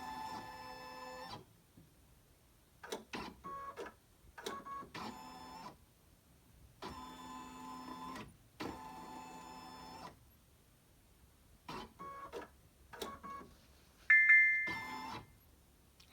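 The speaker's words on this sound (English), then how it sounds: "the hoop's going to move, so make sure nothing's in the way once again" An embroidery machine's hoop moves during a positioning-mark scan: bursts of whirring motor drive start and stop in short runs, with a couple of bright electronic beeps near the end, fairly quiet and close.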